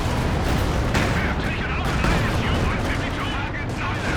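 Machine gun fire rattles through a Company of Heroes 2 3v3 battle, dense continuous bursts mixed with other gunfire and distant booms, loud and chaotic throughout.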